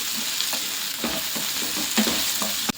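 Sliced capsicum frying in a pan with roasted onions for capsicum rice, giving a steady sizzle broken by a few scraping stirs, with no voices.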